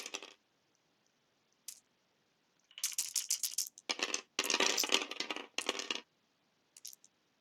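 Pink dice clattering across a table during a wargame turn, several separate bursts of rattling and tumbling with short pauses between, close and fairly loud with no talking.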